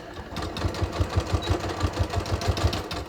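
A sewing machine stitching a yoga-pants-style waistband onto ready-to-wear jeans, a close, fast, even mechanical whirring with rapid regular needle thumps for about three seconds.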